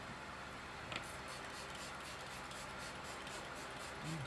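Long-lasting makeup setting spray for all skin types, a shimmer formula, misted from a pump bottle: a soft steady hiss runs through, with a brief louder burst near the start, close and quiet, no talking.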